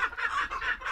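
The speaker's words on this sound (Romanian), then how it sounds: "Mi s-a părut că am auzit niște găini." Chickens cluck in a backyard in Romania, with a rooster among them, giving repeated short rhythmic clucks at close range and no talking.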